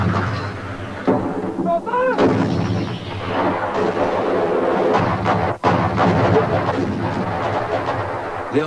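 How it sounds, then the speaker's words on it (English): British artillery fire opening a Falklands War battle in 1982, heavy booming reports rolling under a dense rumbling backdrop, loud and continuous, with a voice briefly rising through the noise. "The artillery opened the battle for the mountains."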